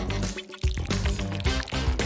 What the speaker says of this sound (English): All the gel and good stuff inside will slide right out into the blender.